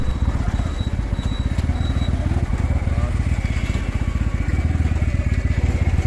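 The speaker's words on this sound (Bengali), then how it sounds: "তো আমরা এখন বাইকে উঠে গেছি, সোজা এখন বাড়ি যাচ্ছি।" A motorcycle ride home late at night, a steady close engine putter with a rapid pulsing rhythm throughout, with voices faintly over it.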